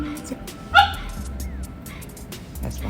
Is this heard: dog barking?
yes